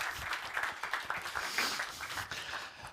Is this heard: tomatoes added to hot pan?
no